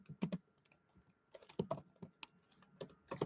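Fingers type on a computer keyboard in short, uneven bursts of close, crisp key clicks with brief pauses between them.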